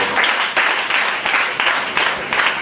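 Rhythmic clapping from a church congregation acclaiming the Lord during a sermon, loud and close, pulsing in regular bursts of applause with no speech over it.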